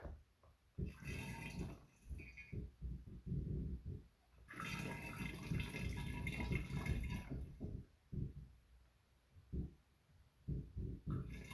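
Recently boiled tea is poured through a funnel during home brewing, coming as several bursts of gurgling, splashing liquid, one long steady pour in the middle, with short pauses between.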